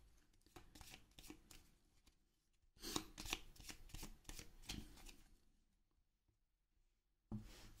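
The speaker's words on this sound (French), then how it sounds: "Je remélange une dernière fois le paquet de cartes." A deck of cards is riffled and shuffled during a solo game of Next Station London, with quiet, close, crisp flutters in several bursts and a final short riffle, no talking.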